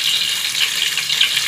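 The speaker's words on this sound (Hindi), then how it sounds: "अब इसमें पानी डाल देंगे।" Water is poured into a pan of cooking green beans and potatoes, producing a steady, close hissing gush that stays level for the whole short moment, with no voices.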